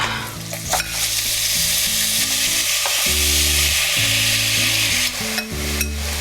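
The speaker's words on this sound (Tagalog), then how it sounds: "Tapos itong karne, binabad ko na to kanina. Yan, lagay na natin siya." Meat marinated in soy sauce, calamansi, garlic and pepper sizzles loudly and steadily in a hot pan, with a constant dense crackle of frying and occasional stirring, with no talking.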